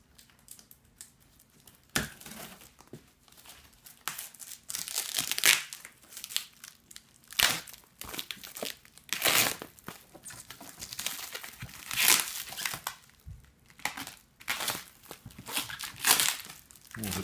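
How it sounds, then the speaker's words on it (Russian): Plastic film wrapped around a cardboard box for a Xiaomi Mi TV 2 crinkles and crackles close up in irregular bursts of handling, loud rustles separated by quieter pauses. "Сама коробка картонная упакована также в свою пленку."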